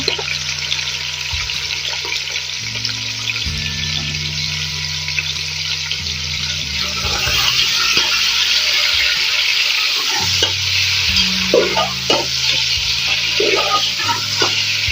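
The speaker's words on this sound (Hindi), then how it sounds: "इसके बाद ये जो ऑयल बच गया है इसमें हम बीफ ऐड कर देंगे" Beef fries in leftover oil in a pan for beef karahi. A steady bright sizzle runs throughout, with stirring clatter and scraping growing busier in the second half.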